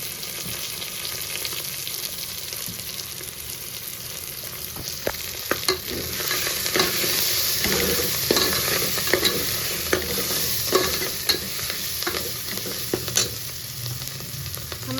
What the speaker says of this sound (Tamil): வெங்காயம் வந்து வெந்துருச்சு வதங்கிருச்சு இஞ்சி பூண்டு பேஸ்ட்டு சேர்த்துக்கலாம்